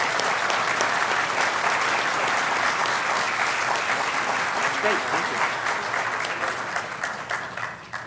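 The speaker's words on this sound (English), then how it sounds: "We have a cheer for them and the new program." A convocation audience cheers and applauds social work graduates at a university ceremony, a dense steady wash of clapping that carries on for several seconds and thins out toward the end, with a brief voice over it.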